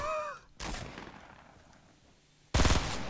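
Loud gunfire in the game Fortnite comes in two sharp bursts, the first followed by a fading echo and the second abrupt and close, with no talking.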